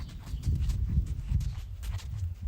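A ridden horse walks with a steady clip-clop of hooves, soft and fairly close, the footfalls coming in an even rhythm with no talking.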